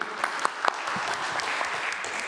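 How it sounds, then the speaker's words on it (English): Brief round of audience applause for a speaker at a careers talk, steady clapping with a few sharper claps standing out, moderately loud and sustained for a couple of seconds. "Round of applause for Fergus Waddell"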